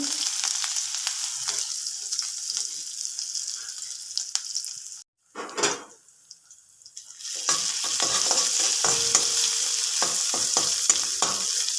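Crushed ginger dropped into hot oil with asafoetida, a loud sizzle that briefly cuts out, then a burst of crackling and spatula clatter before the steady frying returns.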